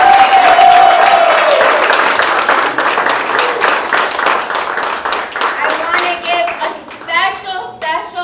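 A forum crowd at a Democratic primary event applauds the candidates, loud close clapping that gradually thins, with a few voices and a cheer rising toward the end.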